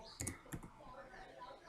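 Keys clatter on a computer keyboard while a command is typed into a terminal, a few quick clicks clustered at the start and another near the end, close and fairly quiet.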